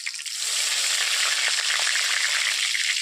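Slit green chillies and a bay leaf frying in hot oil for a jackfruit curry, giving a loud, steady, close sizzle with fine crackling that runs without a break and no talking.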